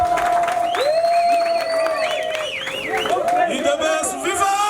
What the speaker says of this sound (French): Président fédéral, avec toutes nos acclamations.